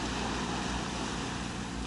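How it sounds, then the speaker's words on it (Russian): A fleet of fishing boats at sea gives off a low, steady engine drone from a distance, mixed with wind buffeting the microphone and the wash of open water. "Смотри, как моторы работают."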